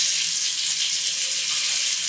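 Water runs steadily from a kitchen tap into a sink on a farm, a close, even hiss that holds without pause and without any talking.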